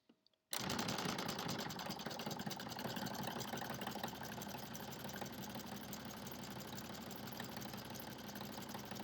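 A sewing machine runs steadily after a short pause, zigzag stitching along a fabric edge to overcast the seam of pajama pants, a close, continuous, even mechanical whir with a fast rhythmic needle beat.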